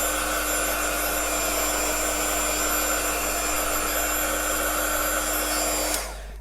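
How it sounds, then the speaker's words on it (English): A heat gun blows with a constant loud whirring hum and whine, running steadily close by before being switched off near the end. "for this technique, it's quite handy to have two different types of heat gun"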